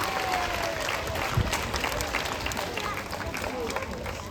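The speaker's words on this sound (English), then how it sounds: "let's give her one last round of applause as she makes her way out" A zoo crowd applauds a seal named Nala as she leaves after a seal presentation at Taronga Zoo, steady clapping with a voice and other noises mixed in.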